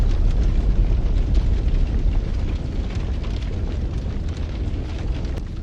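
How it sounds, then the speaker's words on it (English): A Russian tank burns after an FPV drone strike in Donetsk, giving a dense, continuous roaring rumble of fire and crackling that stays loud and unbroken throughout. "Russian tanks and APCs continue to self-destruct. This one burned beautifully."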